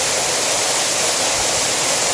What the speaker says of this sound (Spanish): ya estamos entonces aquí en la cascada